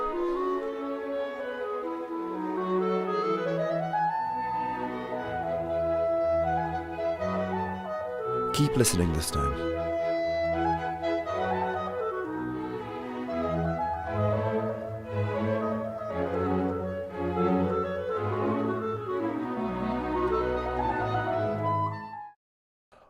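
An orchestral performance of Mozart's Clarinet Concerto, with the clarinet playing a descending sequence over sustained strings. It plays loud and continuous for about twenty seconds, briefly disturbed by a sharp noise midway, then cuts off. A voice speaks briefly.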